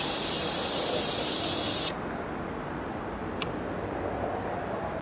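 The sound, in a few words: air escaping from a tire valve under an air hose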